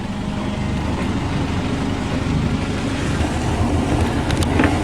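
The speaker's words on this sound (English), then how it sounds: "I got the engine running" Sailboat engine idling steadily at anchor, a continuous low rumble that fills the whole clip with a faint windy hiss on top and no voices.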